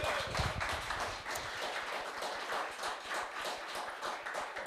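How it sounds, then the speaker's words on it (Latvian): Faint, distant applause at the end of a live broadcast of a folk-race grand prize raffle, a dense patter of many hands clapping for several seconds at low volume. "Vēlreiz aplausi jums un mums visiem."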